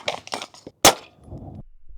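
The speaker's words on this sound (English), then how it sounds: "on this first test, we are going to be doing full metal jacket, 9mm 115 grain through the 16-inch Smith & Wesson FPC" A single sharp, loud suppressed report from 9mm 115-grain full metal jacket rounds fired through a 16-inch Smith & Wesson FPC carbine during a drywall penetration test, preceded by softer handling noises.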